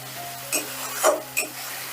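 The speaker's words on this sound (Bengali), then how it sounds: "এবারে মশলাটাকে ভালো করে কষিয়ে নেব যতক্ষণ না মশলাটা থেকে তেল ছেড়ে দিচ্ছে ততক্ষণ কষতে থাকবো" Spice paste fries in oil in a pan for a vegetarian ridge gourd fritter curry, a soft steady sizzle broken by three brief scraping stirs close by.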